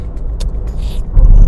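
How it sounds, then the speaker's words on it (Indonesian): A 2025 Daihatsu Sirion car driven fast at speed, a steady low engine and road rumble filling the cabin, swelling louder toward the end with faint intermittent clicks and rattles. "untuk ini mobil dibawa kencang 140 160 oke banget nih mobil nih"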